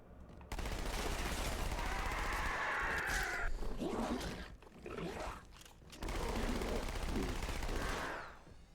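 SMG gunfire in the Halo 2 video game on Legendary difficulty: two long, loud sustained bursts of rapid automatic fire, separated by a short gap with scattered shorter bursts, with no voices.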